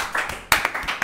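A short burst of hand clapping, several quick uneven claps from one or a few people close by, sharp and fairly loud, with no talk.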